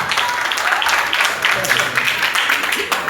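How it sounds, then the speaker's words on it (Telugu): Students clap and applaud at a school event, a dense steady patter that continues under a voice speaking over it. "క్లాప్స్ కొట్టండి స్టూడెంట్స్"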